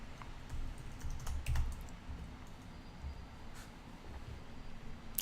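Fingers type a login password on a computer keyboard, a quiet run of light, irregular key clicks with a few firmer taps, close and alone.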